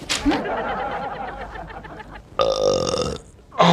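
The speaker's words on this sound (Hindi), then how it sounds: "अब तो डकार भी आ गई" A man lets out a long, loud belch after a comic scene about eating samosas and cold drinks, and a second burst follows at the end.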